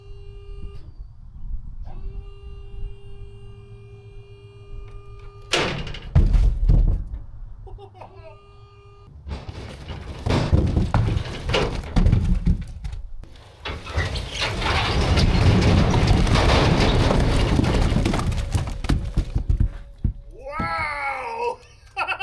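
Firewood rounds are dumped onto a pile sitting over concrete, making bursts of heavy tumbling and thudding and then a long rolling rumble, with voices and excited shouts around the noise.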